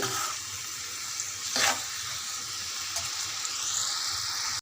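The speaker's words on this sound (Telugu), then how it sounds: "ఈ కాకరకాయ ముక్కల్ని మంచిగా బాగా ఫ్రై అవ్వనివ్వాలి" Bitter gourd pieces frying in hot oil give a steady, close sizzle with a brief louder burst of crackling partway through, then an even hiss.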